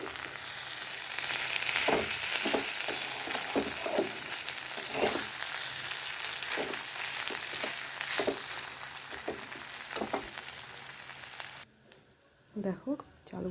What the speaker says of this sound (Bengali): এবার চালটাকে ভালো করে একটু ভেজে নেব।